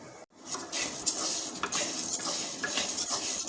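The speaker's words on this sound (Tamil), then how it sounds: "பருப்பை நல்லா வறுத்து எடுத்துக்கிடுவோம்" Lentils being dry-roasted in a pan for porulvilangai urundai, giving a steady, close scraping and clinking of utensil against metal with dense rattling grains, continuous throughout after a brief pause near the start.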